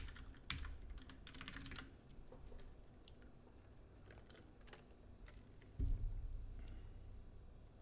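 Typing on a computer keyboard, with bursts of quick, light clicks and key taps coming and going against a quiet room hum, fairly close but soft.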